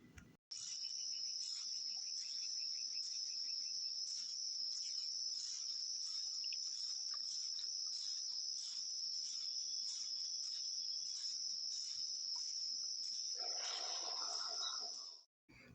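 Steady, continuous high-pitched insect chirring, like crickets, droning without pause for about fifteen seconds in a video game, with a brief softer rustle near the end.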